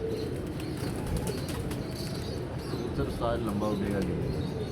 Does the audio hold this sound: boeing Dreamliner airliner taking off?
no